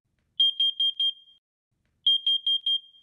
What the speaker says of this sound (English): A smoke alarm will have three loud beeps.